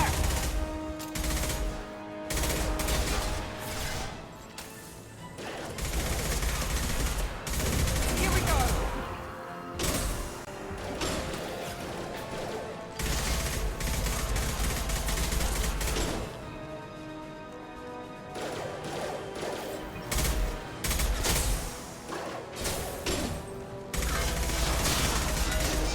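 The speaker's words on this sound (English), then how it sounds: "Enemies in front! Taking heavy fire!" Rapid bursts of gunfire and automatic weapon fire ring out in the video game Mass Effect 2, loud clattering volleys separated by short lulls, with a voice occasionally talking over the combat.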